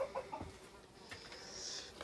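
A frizzle-feathered show hen gives a few soft, low clucks, faint and slightly distant, against a quiet background hum.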